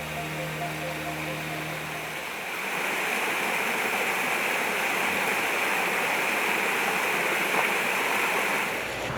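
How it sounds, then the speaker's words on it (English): Steady rushing waterfall at Garvan Woodland Gardens in Arkansas, a broad continuous roar of falling water that swells louder after a low hum fades out in the first seconds. "Waterfalls are something you can enjoy a lot of at Garvan Woodland Gardens."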